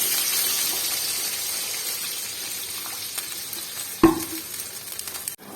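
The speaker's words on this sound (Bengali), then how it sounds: "এখন আমি পরিমাণ মতো জল দিয়ে দেবো" Water added to a pan of potatoes fried until deep red-brown: a steady close sizzle, then a sudden loud splash and hiss near the end before the pan quiets.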